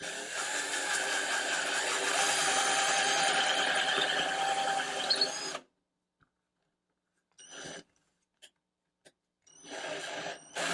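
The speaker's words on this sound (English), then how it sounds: "I'll drill a hole into this." Altocraft 20V cordless drill boring a hole with a brad point bit, a steady whirring drone for several seconds that then stops, followed by a few short bursts of the motor.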